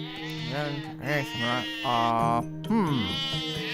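Sheep bleating, a wavering voiced cry that repeats several times across the clip, loud and close, with no pauses between calls.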